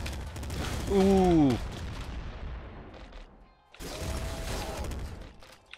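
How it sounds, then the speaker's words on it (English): Explosions in a video game, with booming blasts and rumbling debris that fade, then a second burst of noise, while a voice briefly reacts. "Everything's exploding"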